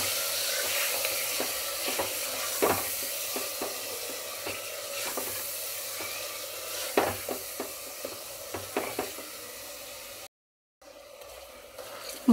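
A spoon stirs mutton with garlic paste and yogurt in a pan with steady sizzling, punctuated by scraping clicks, then a brief silence before the frying resumes.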